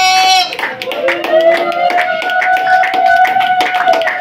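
Congregation at a Christian worship service clapping in a steady rhythm, with loud sustained singing or cheering voices over the claps.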